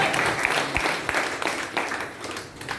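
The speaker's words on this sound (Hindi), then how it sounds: "जोरदार तालियां दीजिए लीडर्स के लिए।" Moderate applause from an audience at a company leadership event, a scattered wash of clapping with a few sharper individual claps, continuing for a few seconds at middling distance.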